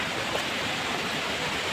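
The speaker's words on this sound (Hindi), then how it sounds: "हम यहाँ पे झरने में हैं" Steady broadband rush of a waterfall on a Himalayan mountain trek on the Kedarnath yatra route, a continuous close roar with no talk over it.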